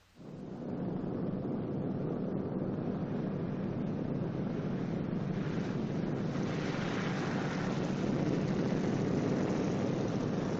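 A B-29 bomber coming in to land on 1944 film produces a loud, continuous propeller-engine roar that starts abruptly and swells slightly toward the end, with no speech over it.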